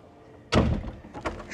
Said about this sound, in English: Shut the door properly.